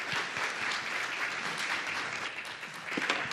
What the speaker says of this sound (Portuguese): pedindo uma salva de palmas a todos os nossos painelistas